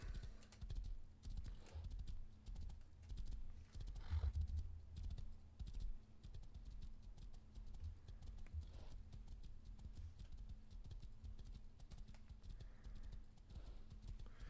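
Horse hooves clip-clop at a steady trotting rhythm in a survival video game, moderately close and continuous, with brief louder thuds partway through and faint keyboard tapping alongside.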